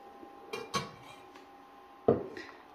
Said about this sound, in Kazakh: Осы көжемізге араластырамыз барлығын.